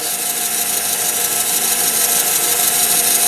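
A pen being sanded with 2000 grit sandpaper makes a loud, steady, hissing rub that holds unbroken and close throughout, with no talking.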